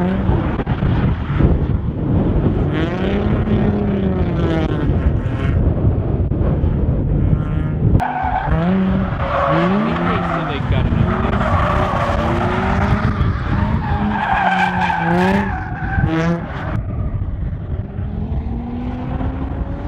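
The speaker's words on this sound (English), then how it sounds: "there's a drift into a 180, into a reverse 270 drift, into another drift" Animated race car drifting and skidding through a chain of spins, Vanellope's kart in a cartoon racing scene, loud and continuous with engine whine, tire screeches and swelling music-like sweeps throughout.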